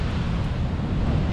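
A loud, steady roar of rough sea waves surging at a San Francisco bay crabbing spot, mixed with heavy wind buffeting the microphone.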